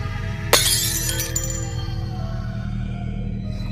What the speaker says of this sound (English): he dropped the plate and it shattered